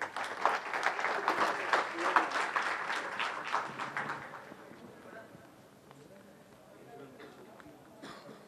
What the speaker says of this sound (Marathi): जोरदार टाळ्या मंजिरीजींसाठी